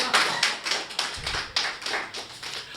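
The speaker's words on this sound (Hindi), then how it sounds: "आपकी तालियां चाहता हूँ।" A small audience at a Hindi poetry recital claps briefly, a sparse irregular patter of individual hand claps, fairly quiet and close, without talking.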